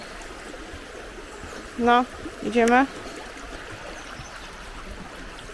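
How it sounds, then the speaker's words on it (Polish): A small river spilling into the sea on a Swedish shore makes a steady, broad watery rush throughout, while a voice briefly speaks over it partway through. "I rzeczka sobie wpływa do morza."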